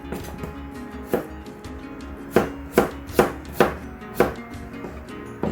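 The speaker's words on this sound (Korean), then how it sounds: "일단 감자를 좀 작게 썰고" A knife chops potatoes into small pieces on a cutting board: about eight sharp, close knocks in a loose, fairly even rhythm, with no talking.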